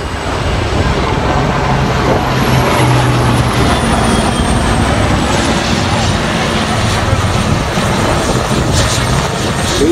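An Oryx military transport helicopter drones steadily overhead, its rotor chop and engine roar loud and continuous, with faint voices beneath.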